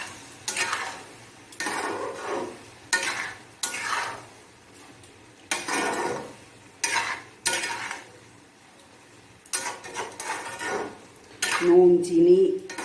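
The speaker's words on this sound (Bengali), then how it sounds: "ভালো করে মিশিয়ে দিতে হবে।" Spoon scraping and clinking around a cooking pot of egg tadka in separate bursts of stirring with quiet pauses between, close and clear, ending with a sharper metallic clatter.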